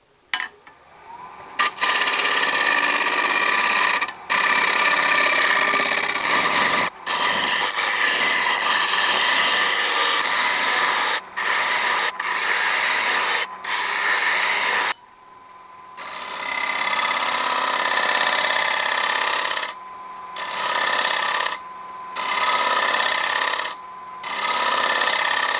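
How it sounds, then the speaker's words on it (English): A carbide cutter held at a shear scraping angle scrapes a wooden bowl turning on a lathe, giving a loud, continuous close rasping whir that breaks off in several short pauses as the cut lifts and resumes. "Got a carbide blade on it now."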